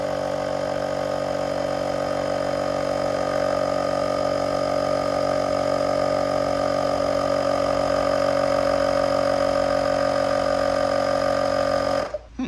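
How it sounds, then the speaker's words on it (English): An Oak & Iron rechargeable tire inflator runs steadily as it pumps air into a tire, a constant buzzing motor hum with a faint rhythmic pulse that holds at even loudness for about twelve seconds and then cuts off abruptly. "So it is actively putting some air in that tire."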